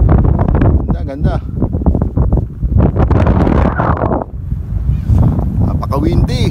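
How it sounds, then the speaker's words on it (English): Strong desert wind buffets the microphone outdoors, a loud continuous roar and rumble with gusty surges, while people talk over it near the mic. "Napaka-windy."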